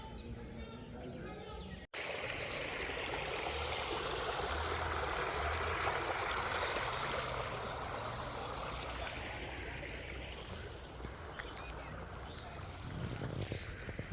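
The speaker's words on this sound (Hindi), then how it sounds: "गांव की नहरी अल्हम्दुलिल्लाह पानी से फुल जा रही है" A village canal runs full of water after rain, and its constant rushing flow comes in after a brief quiet opening. A faint bird call appears near the end.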